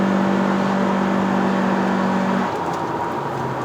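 Cabin view of a Toyota Camry XV70 Hybrid pulling hard under full throttle on a Malaysian test drive, a steady motor whir and road hum that shifts lower about two-thirds of the way through.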